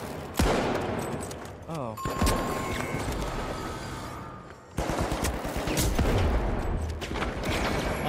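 Dense gunfire in the video game The Finals: rapid bursts of shots and sustained firing crackle almost continuously, with a short lull midway, while a player's voice briefly exclaims over it.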